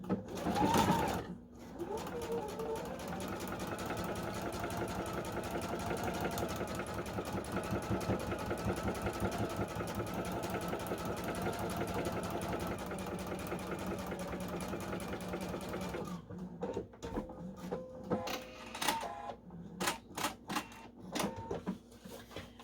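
A sewing machine stitches a quilt block seam in one long, steady, rapid mechanical hum. It then stops, leaving scattered clicks and handling noises near the end.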